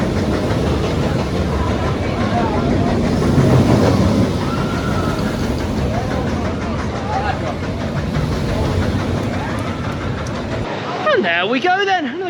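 Icon roller coaster at Blackpool Pleasure Beach running along its track, a steady loud rumbling roar with clattering wheels throughout, wind noise and riders' voices mixed in, ending in brief screams and shouts.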